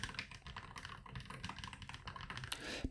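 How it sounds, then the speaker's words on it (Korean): Quick, continuous typing on an Epomaker Magforce 68 keyboard with magnetic linear switches, a close, dense clatter of crisp but low-volume keystrokes with no one talking. "바닥이나 뚜껑을 치는 소리의 볼륨 자체가 매우 작습니다."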